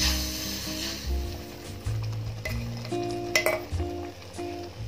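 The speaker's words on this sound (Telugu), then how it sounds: "ఇలా బాయిల్ అవుతున్న మిక్చర్కి మనం ఫ్రై చేస్తున్న సూజీ యాడ్ చేయాలి" Semolina stirred into a boiling pineapple juice mixture in a pan for pineapple halwa, with a steady bubbling sizzle and soft scraping of the spoon against the pan, plus a few light clinks.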